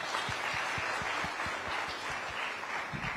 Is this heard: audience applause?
yes